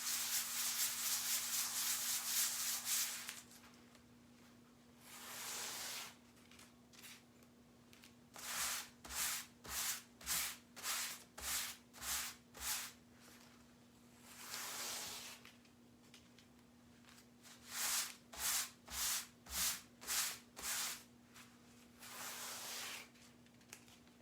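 A terry and microfiber cloth rubs over a brand new transfer in bursts of brisk back-and-forth strokes, a soft hissing swish coming in rapid rhythmic runs separated by pauses, close and fairly quiet with no talking.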